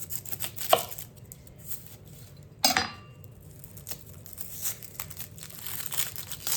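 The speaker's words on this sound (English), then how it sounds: "And then I'm gonna cut up an onion, because I want to fry them with some onion." Onion being cut up for frying with potatoes, with a few sharp knife strikes on a board among soft crinkling and handling noises, fairly quiet and close, without speech.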